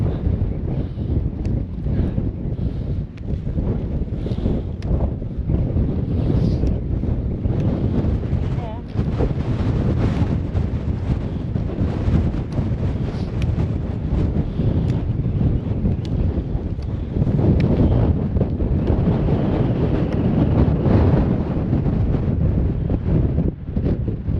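Strong wind on a mountain buffets the microphone in a constant low roar that swells and gusts, with voices faintly audible underneath.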